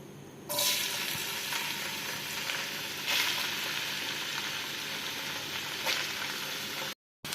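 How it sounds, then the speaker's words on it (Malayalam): Ginger fries in coconut oil in a hot pan for Kerala-style injikkoottu, a loud, dense sizzle that jumps up after a quiet half-second, holds steady with a few stirring scrapes, then cuts out briefly near the end. "അതിൽ കുറച്ച് വെളിച്ചെണ്ണ ഒഴിച്ച് ഈ ഇഞ്ചി ഒന്ന് മൂപ്പിച്ചെടുക്കാം"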